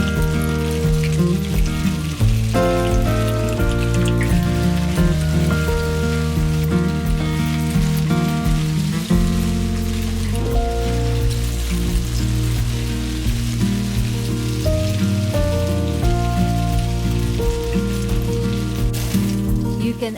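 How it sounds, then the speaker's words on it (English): Green beans and eggplant sauté in a hot pan for peanut stew, a steady loud sizzle beneath continuous background music. "Sauté green beans for a minute or two"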